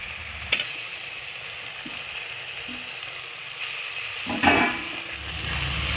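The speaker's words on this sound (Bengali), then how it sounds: "আলুটা একটু মশলার সাথে নেড়ে চেড়ে নিয়ে" Fried potatoes being stirred into tomato masala in a frying pan produce a continuous sizzle, with a couple of sharp clanks of the spatula against the pan and low scraping between them.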